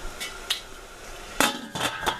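A lid set onto a cooking pot of Waterzooi, several close metallic clanks and clinks in quick succession, the loudest near the end.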